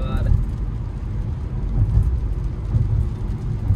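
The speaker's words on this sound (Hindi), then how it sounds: "आज बारिश हो रहा है" Steady rain and road rumble inside a car on a long highway drive toward Kolaghat, a dense continuous low wash with no talk, holding fairly even throughout.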